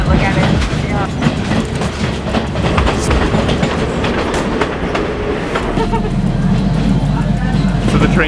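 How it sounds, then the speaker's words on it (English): Onboard a train climbing toward Kandy through Sri Lanka's hill country, with a steady rumble and clatter of the carriage that stays loud and continuous throughout, while voices talk over it. "We just hopped on a train."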